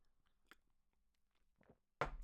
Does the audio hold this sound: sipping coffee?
yes